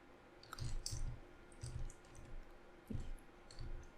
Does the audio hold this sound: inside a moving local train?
no